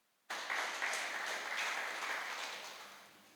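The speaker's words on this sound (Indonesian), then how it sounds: "Beri tepuk tangan yang meriah kepada Tuhan." Church congregation at a Christmas worship service bursting into applause, a sudden dense wash of clapping that starts abruptly, peaks briefly, then gradually fades.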